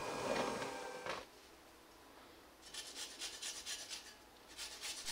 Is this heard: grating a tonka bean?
yes